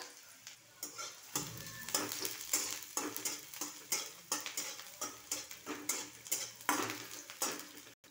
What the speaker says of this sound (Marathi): बारीक केलेला लसूण, बारीक कट केलेला कांदा, आपण हे परतून घेऊया।